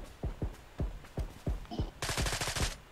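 Gunfire in PUBG on the Erangel map: a run of single loud rifle shots spaced roughly a third of a second apart, then a dense rapid burst, with faint voices in the background.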